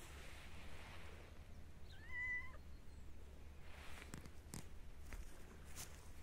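A cat meows once, a short drawn-out call in the middle, outdoors in the countryside by an old flour mill, over steady low background rumble with a few sharp ticks and rustles afterwards.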